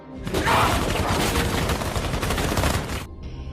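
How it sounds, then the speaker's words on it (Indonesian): Dense, sustained gunfire from an action film shootout, a loud rapid fusillade of shots running for about three seconds before cutting off abruptly. "ada beberapa anak buah Reyes yang hendak menembak mereka berdua"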